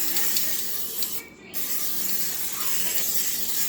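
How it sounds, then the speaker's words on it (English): A butter-flavored cooking spray hisses into a casserole dish in a kitchen, two steady close sprays split by a brief pause. "So I'm going to spray my casserole dish down."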